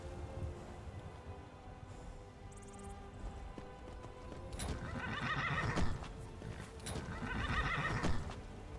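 A horse in Skyrim gives two loud whinnies a few seconds apart, with soft hoof clip-clops around them and no talk.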